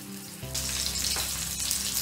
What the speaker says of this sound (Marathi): अलगद हाताने तेलामध्ये सोडायचं.